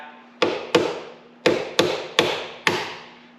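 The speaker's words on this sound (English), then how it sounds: "Now you may need to use a hammer to tap" Six sharp hammer taps in two uneven groups seat a headlight piece on a 2017-2025 Yamaha YFZ-50, each crisp strike ringing briefly close by over a steady hum.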